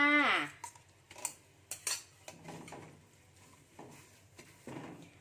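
Green curry paste is stir-fried in coconut cream, heard mostly as metal utensil clinks and scrapes against the pan, with a faint sizzle between the strikes.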